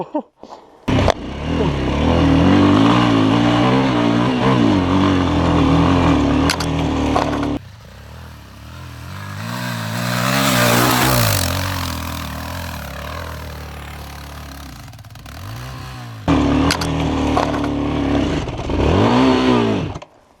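A moped engine drones loudly and close, surging and revving in long sustained bursts with pitch sweeps between gears, dropping briefly before climbing again.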